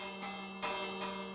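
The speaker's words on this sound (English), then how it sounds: "it'll ring these bells, and also flash the lights in all the rooms" Emergency alarm bells ringing inside a bunker, a steady metallic electric ring with a constant tone, swelling in brief pulses as the clappers strike, moderately loud and continuous with no voices.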